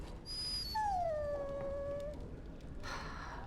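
A dog in Dragon Age: Origins lets out a single drawn-out whimpering whine that slides downward in pitch, fairly quiet against a soft ambient background.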